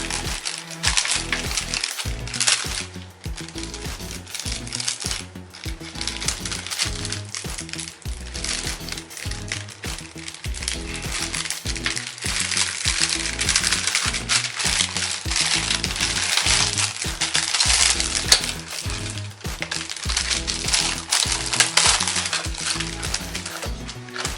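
Close, persistent crinkling and rustling of a plastic bag of 1/144 scale model aircraft kit parts being handled and opened, with small parts clattering and shifting inside.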